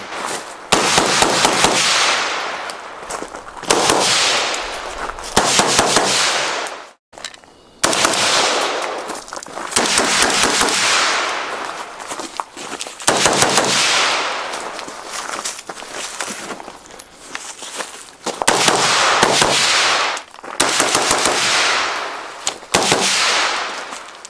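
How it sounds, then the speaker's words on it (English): A 5.56 rifle fired through different suppressors, from the Wolfman to the Flow 556K, at an outdoor range: a long string of loud, sharp, evenly paced shots with brief pauses, close and continuous. "We have been shooting the crap out of this today, so probably more than I've ever shot this rifle, just with these different suppressors"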